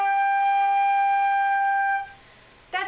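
A beginner sounds a single sustained flute note for about two seconds, steady and fairly loud with a clear tone, then it stops abruptly and a short breathy attempt follows.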